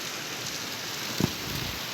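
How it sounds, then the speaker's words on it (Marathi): Heavy rain pours steadily in gusting wind during a monsoon downpour, a dense unbroken hiss of drops on surfaces with a brief louder patter burst midway; no one speaks. "कसला भारी पाऊस चालू आहे."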